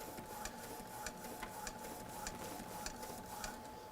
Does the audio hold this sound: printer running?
yes